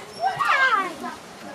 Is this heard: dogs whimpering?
yes